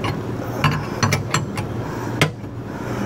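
A stud being pulled out during a turbocharger replacement on a 2020 Mazda CX-9 gives a handful of sharp, close metallic clicks and ratcheting snaps spaced irregularly over a low background hum.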